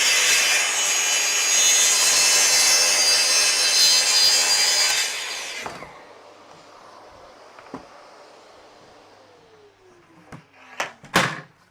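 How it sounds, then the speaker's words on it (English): A small bandsaw cuts wood for a garden gate, a loud, steady whining rasp for several seconds that stops abruptly, followed by a few scattered knocks and clunks in the workshop. "So I'll do these on the small bandsaw right now."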